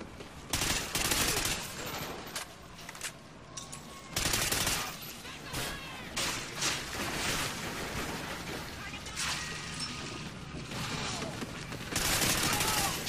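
Shotgun gunfire in an online video game, with repeated loud blasts and bursts of shooting scattered across a noisy battle while players talk over it.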